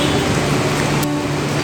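Steady rain pours down at Sonprayag on the route to Kedarnath, a dense continuous hiss filling the scene, close and fairly loud with no break.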